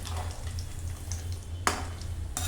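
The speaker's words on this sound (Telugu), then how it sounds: "జీడిపప్పులు బాదం పప్పులు కొంచెం ముక్కలుగా కోసుకొని వాటిని కూడా వేయించుకుందామండి అదే కడాయిలో వేయించేసేయండి" Chopped cashews and almonds fry in oil in a kadai with a soft, steady sizzle, broken by a couple of sharp clinks from a utensil against the pan.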